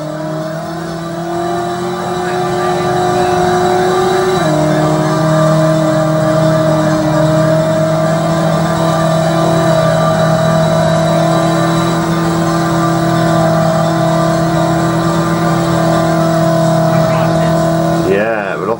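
Car engine in the PS1 game Driver, weaving through traffic during a chase, holds a steady revving drone with a gear shift near five seconds and a brief skid at the end, with a voice talking over it throughout.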